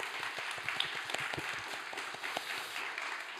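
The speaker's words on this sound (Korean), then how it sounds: "우리 수고한 모든 이들에게 박수하겠습니다." Congregation applauding at a Sunday young-adult church worship service, a steady moderate wash of many hands clapping, somewhat distant and alone, with no talking.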